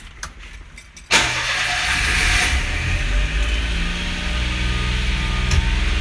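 A mini truck's small 3-cylinder engine cranking briefly with a few quick ticks, then catching and roaring to life before settling into a loud steady idle close by.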